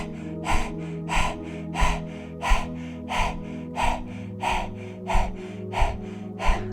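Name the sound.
rapid panting breath through the mouth, tongue out, yoga dog breath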